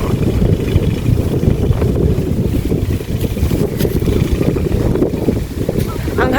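Loud, steady wind buffeting the microphone in a constant low roar, with a faint voice buried underneath.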